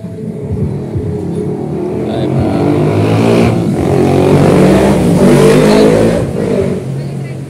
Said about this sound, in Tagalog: Sakit sa tainga yung mga motor dito.